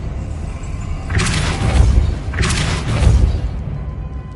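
Two forceful whooshing magical bursts from the Depulso spell in Hogwarts Legacy, each a swelling blast with a low thump, spaced about a second apart over a steady ambient hum.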